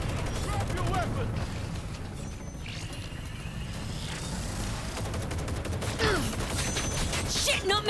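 Gunfire fills a firefight in the video game Cyberpunk 2077, with bursts of rapid shots, clattering mechanical effects and whooshing game sounds, loud and up close, while voices talk over the action.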